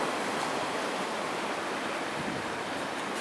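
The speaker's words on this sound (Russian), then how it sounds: "Короче, зацените, какое тут море" Night sea waves in Qingdao wash in as a steady, continuous broadband roar of surf, loud and even throughout with no distinct individual breakers and no talk.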